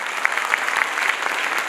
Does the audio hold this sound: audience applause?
yes